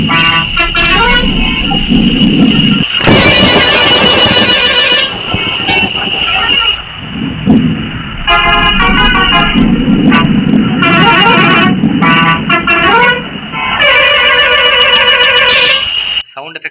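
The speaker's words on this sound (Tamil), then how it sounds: "நம்ம இதில் ஆட் பண்ண ஹார்னோட சவுண்ட்லாம் நீங்கள் வந்து இதில் கேட்டிருப்பீங்க" Custom bus horn in Bus Simulator Indonesia sounding in a loud series of honks, some long blasts and short toots, with engine rumble beneath throughout.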